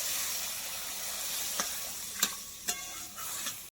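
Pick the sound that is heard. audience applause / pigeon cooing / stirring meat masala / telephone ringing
stirring meat masala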